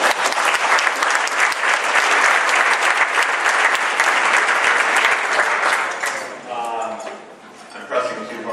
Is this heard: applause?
yes